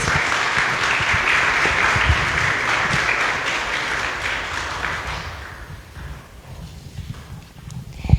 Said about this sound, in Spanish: Les pido un aplauso también para la maestra Judith Ríos